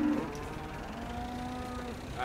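Cattle in the video game Farming Simulator 17 give a low, drawn-out moo that sounds fairly faint and is set against quiet farm ambience.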